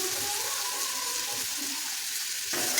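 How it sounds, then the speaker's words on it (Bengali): Potato pieces fry in hot oil for a vegetarian aloo dum, giving a loud, dense, continuous sizzle heard up close, with a slight shift in texture near the end. "আলুটা ভালো করে ভেজে নেবো তেলের ওপরে।"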